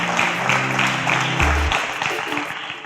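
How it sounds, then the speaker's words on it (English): An audience applauds at a televised competition show as finalists leave the stage, a dense, sustained wash of clapping under a booming low music hit and a voice. "A round of applause for them as they exit the stage"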